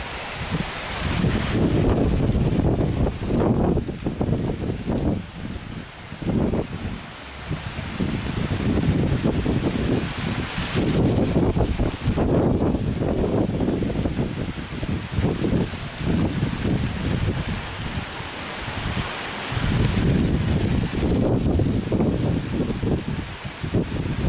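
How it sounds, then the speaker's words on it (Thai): Heavy thunderstorm rain pours down with strong gusting wind at Muong Ngoy, Laos, beside a river bend, a loud steady roar of rain and buffeting wind that surges and eases throughout, with no voices. "ฝนกำลังกระหน่ำลงมาอย่างหนักเลยครับ ลมแรงมากครับ"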